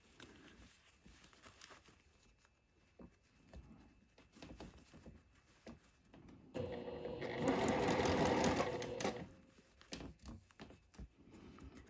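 A sewing machine stitches a floral sundress in one short, close burst of whirring lasting about two seconds, surrounded by quieter handling clicks and rustles.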